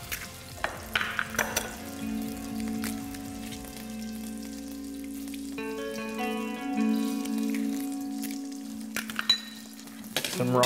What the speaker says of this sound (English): So we're gonna start putting a little butter in our pan